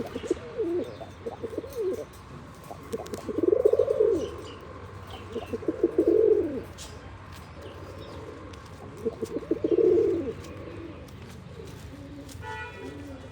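Pigeons coo in a pair, giving low, rounded coos in three or four separate bouts. Faint chirps and a soft background hum run underneath.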